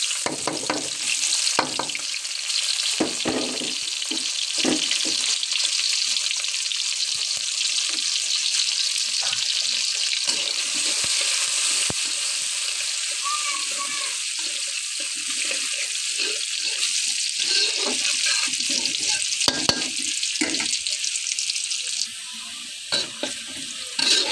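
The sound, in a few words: onion, cumin and mustard seeds frying in oil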